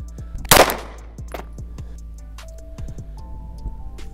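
A Glock 19 pistol fires into a stack of two textbooks, giving one loud sharp report near the start with a short ringing decay, followed by quieter clicks and clatter in the background.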